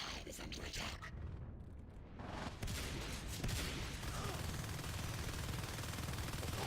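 Rifle and shotgun fire in the Natural Selection 2 video game, dense rapid automatic gunfire running almost continuously, loud and close, with a brief lull before the shooting resumes even more intensely.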